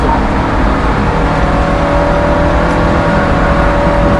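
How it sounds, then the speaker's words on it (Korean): A Nissan X-Trail engine with a CVT drones at high revs, steady and loud, with a constant strained hum and road noise throughout, no voices. "RPM이 어때 한계까지 올라가는 듯한 그런 소리가 들려요"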